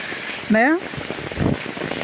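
Heavy rain falls in Ceará as a steady, dense hiss throughout. A person speaks a short word over it.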